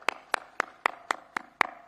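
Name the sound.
audience applause for the president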